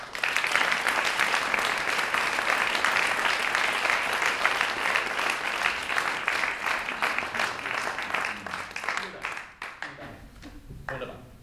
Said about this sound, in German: Also auch für Sie einen riesen Applaus.